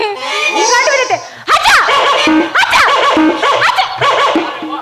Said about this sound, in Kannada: ನಾಯಿ ರೀ.